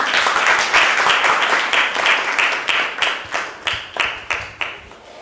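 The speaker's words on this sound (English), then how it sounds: "Please, if you could give a round of applause to him." Applause for a speaker introduced at a literary event on Bengali ghost stories: brisk clapping from a small audience, close and fairly loud, thinning toward the end into a few separate, evenly spaced claps.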